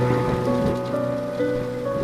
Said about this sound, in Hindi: अब बारिश भी काफ़ी ज़ोरों की होने लगी थी।